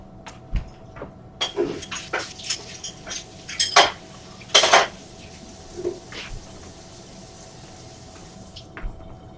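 Metal garlic press rinsed at a kitchen sink, with scattered clinks and knocks against the basin over faint running water, close and fairly quiet.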